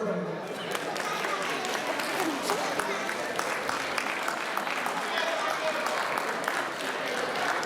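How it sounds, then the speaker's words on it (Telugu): An audience at a Ugadi prize distribution for UNO and carrom games applauds in a steady burst of clapping that fills the hall. It holds at an even level throughout. "అందరికీ ఒకసారి చప్పట్లు కొట్టండి"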